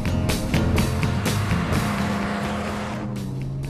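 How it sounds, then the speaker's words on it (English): A Sebring sports car with a Weber carburetor drives close by, its engine revving hard and moaning with rising and falling pulses before easing to a steadier drone, loud with no talk. "Hearing the Weber carburetor moan as it sucks in air when you open it up"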